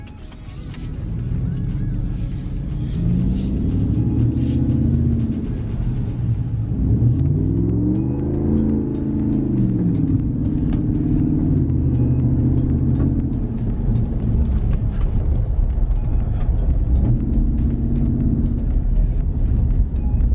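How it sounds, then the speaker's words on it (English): A 2019 Ram Rebel pickup truck with a clunking suspension driving off-road over grass, a loud, close engine rumble that rises and falls through several revs and accelerations. "Let's do a little off-roading, go over the grass here a bit"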